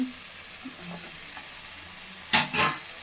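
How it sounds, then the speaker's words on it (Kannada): Fried cauliflower for street-style gobi manchurian being stirred in a pan, soft sizzling with a few scraping strokes and two sharper clattering stirs near the end. "ಸೇರಿಸ್ಕೊಂಡು ಚೆನ್ನಾಗಿ ಈ ರೀತಿ ತಿರುಗಿಸ್ಕೋಬೇಕು ಯಾವುದೇ ಕಾರಣಕ್ಕೂ ತಳ ಹಿಡಿಬಾರ್ದು"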